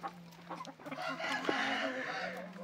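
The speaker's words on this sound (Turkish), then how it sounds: "Onlar öyle tutunca tüm horozlar bağırmaya başladı." Roosters and hens in a coop give loud, overlapping clucks and crowing calls at close range, a continuous noisy chorus of farm fowl.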